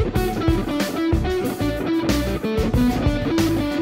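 Electric guitar is played with a choppy, staccato beginner's tone, with distorted, clipped chords and notes hit in short bursts. It plays loud and close with no talk.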